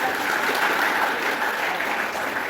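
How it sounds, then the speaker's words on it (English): Audience at a literary award ceremony applauds the lighting of the lamp, a steady, dense wash of clapping that holds evenly throughout without voices. "To have a big round of applause for the lighting of the lamp."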